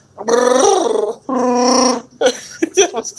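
A person imitates a Godzilla roar up close: two long, loud growling cries, then a few shorter, choppier yelps.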